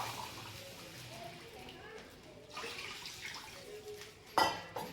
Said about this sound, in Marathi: या तांब्याचं माप घेऊन आपण दोन तांबे त्याच्यात पाणी टाकू